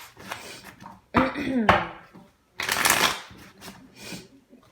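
Twin Flame oracle cards are shuffled up close in several loud, riffling bursts of crisp card slaps, separated by brief quiet gaps.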